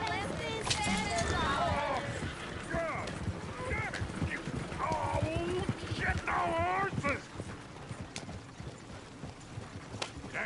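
Horse hooves clip-clop in a steady run as a horse-drawn coach rolls along in the game Red Dead Redemption 2, mixed under lively talking voices and other game sounds.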